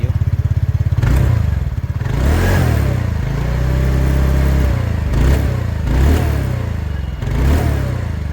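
A new TVS Ntorq 125 scooter engine idles with a thumpy putter, then revs up repeatedly in several rising bursts, loud and close, with no talking.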